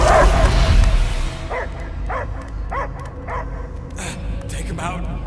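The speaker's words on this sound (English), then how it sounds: "I hear only barking." A dog barks and yips in Marvel's Guardians of the Galaxy video game, a string of short repeated barks after a loud opening burst, mid-distance against a low ambient hum.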